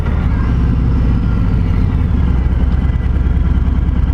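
A 2020 Harley-Davidson Road King Special bagger rumbles under load as it pulls ahead, a deep, steady low-pitched engine drone heard up close while riding, with no talk.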